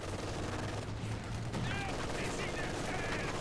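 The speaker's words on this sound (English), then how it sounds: "Rifles might take a burst from the MG42 as well as they go home." An MG42 machine gun fires in a Company of Heroes battle, a loud sustained rattling burst among other gunfire, with distorted game effects and a voice talking over it.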